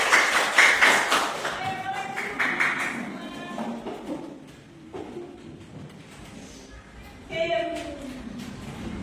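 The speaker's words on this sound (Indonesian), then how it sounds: "Tepuk tangan buat kita semua." A class group claps together in a quick burst at the start, with scattered claps and voices continuing underneath and another swell of noise near the end.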